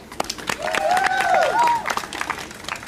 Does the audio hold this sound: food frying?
no